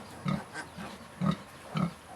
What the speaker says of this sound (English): my pigs has given birth to 10 piglets